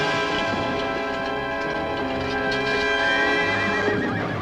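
A horse whinnies loudly over the steady clatter of hooves, with a dense layer of commotion filling the background throughout.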